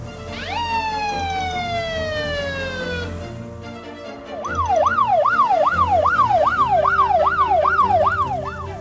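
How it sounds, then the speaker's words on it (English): Water ambulance siren sounding a long, gradually descending tone, then shifting after a short lull into a loud, rapid rising-and-falling wail. "Water ambulance."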